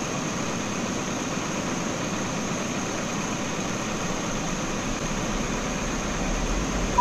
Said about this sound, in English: Starting engine number 2.